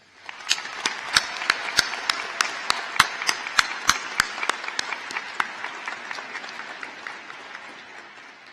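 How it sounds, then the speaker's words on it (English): A round of applause at a high school graduation ceremony for honored scholars, with sharp distinct claps standing out up front over a broad crowd patter that tapers off toward the end. "So I'd like to take a moment to give them a round of applause."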